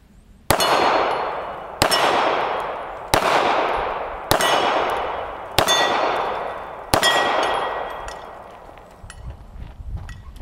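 A Hi-Point C9 pistol fires six evenly spaced rounds into steel gongs, and each impact rings out as a loud metallic clang that decays slowly before the next hit, with the final ring fading longest.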